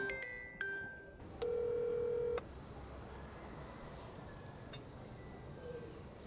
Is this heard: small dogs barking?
no